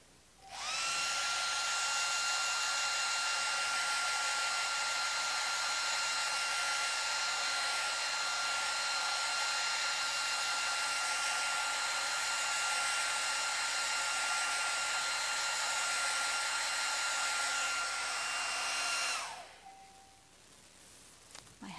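A hair dryer blows steadily and close for about nineteen seconds with a constant whine, then cuts off abruptly into near silence.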